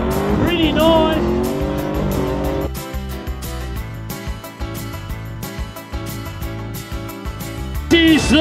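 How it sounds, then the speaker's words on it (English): A Holden V8 Commodore does circle work at a dusty outback car event, its engine roaring loud and continuous with revving surges and possible tyre squeal, while crowd noise and commentary run underneath. "This is the Bob Jane team and Nathan LeBron having a red hot crack in his V8 Commodore."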